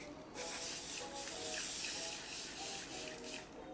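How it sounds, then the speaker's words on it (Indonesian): Bioderma refreshing water in a blue-capped bottle mists onto a face in a few close, soft hissing sprays with short pauses between bursts, heard alone. "Sekarang aku mau semprot muka aku dulu pakai Bioderma refreshing water gini."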